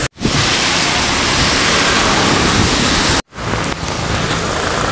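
Heavy rain pours down in a steady, loud roar of broadband hiss, broken once by a brief cut before it carries on just as strongly.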